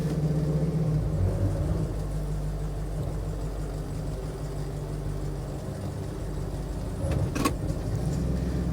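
A car's idling engine rumbles steadily and close while it is shifted into gear, a little sluggish to engage, with a brief mechanical clunk near the end and no one talking.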